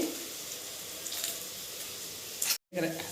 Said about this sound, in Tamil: ஆனியன் வதங்கிட்டுருக்கு